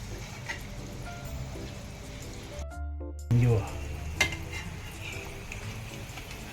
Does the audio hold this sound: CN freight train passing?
no